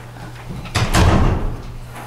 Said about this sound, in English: Close that door to the hallway.